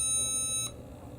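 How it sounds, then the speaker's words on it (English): A Robobloq Q-scout toy robot, triggered from its app, gives off a single sustained electronic beep with a high-pitched tone that stops abruptly after about half a second, leaving a faint quiet background. "You can make it beep."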